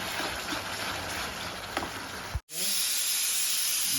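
A pressure cooker boiling soaked peas lets out loud, steady hissing steam. The hiss cuts off for a moment, then bursts back and continues evenly.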